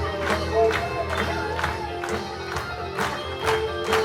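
A wrestling crowd cheers at a live event in Cumbria, with a continuous roar punctuated by repeated surges of whoops and shouts, loud and full, with commentators speaking over it.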